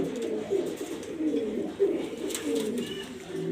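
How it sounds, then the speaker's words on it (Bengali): Several grizzle homer pigeons coo in low, repeated throaty rolls close by, overlapping one another against a faint background hum. "গ্রিজাল হোমা খুবই সুন্দর একটা কবুতর আজকের জন্য আছে"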